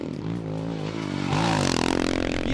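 A Royal Enfield Himalayan motocross build is ridden flat out on a dirt track, its single-cylinder engine revving hard and rising in pitch, surging louder midway with scraping, clattering chassis noise, close to the microphone.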